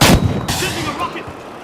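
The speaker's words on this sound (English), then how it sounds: "Sending a rocket!" A rocket is fired in the video game The Finals, a loud, close blast at the start followed by a second heavy boom and a rolling rumble that trails off.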